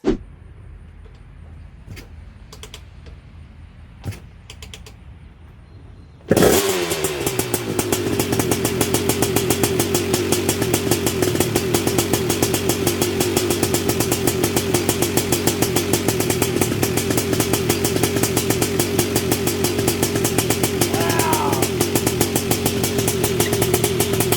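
Several quiet clicks and taps, then a Honda TRX250R ATV engine fitted with an HPI ignition abruptly starts and settles into a loud, steady idle that runs continuously to the end.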